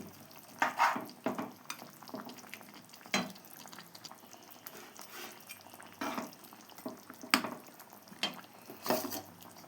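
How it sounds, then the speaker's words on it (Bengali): Koi fish dropped into boiling water for a curry with new potatoes: a low bubbling sizzle broken by several bursts of splashing and clatter as pieces go in, close by. "জলটা ফুটে গেছে এখন মাছগুলো ছেড়ে দিলাম"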